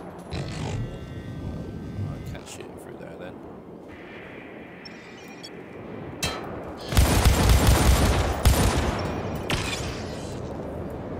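Gunfire in the video game Syndicate, heavy bursts of rapid shots and booms that swell loud in the second half, with a voice talking over the game sounds.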